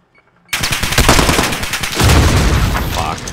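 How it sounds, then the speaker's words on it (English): Loud, close gunfire bursts in a Modern Warfare match, rapid automatic shots rattling in quick succession after a brief quiet start, with a heavier grenade-like blast swelling near the end and lingering. "I knew that grenade was gonna kill me."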